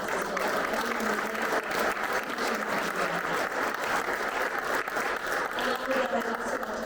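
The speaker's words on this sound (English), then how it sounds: "I'd like to go ahead and take a moment to give them a round of applause." Sustained applause from an audience at an evening public candidate forum, dense steady clapping for several seconds with some crowd murmur.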